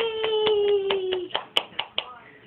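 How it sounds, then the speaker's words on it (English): A baby tries to clap his hands: after a long drawn-out adult vocal cheer, four soft, uneven little claps land close by, spaced irregularly and quieter than the voice. "You gonna try and clap again?"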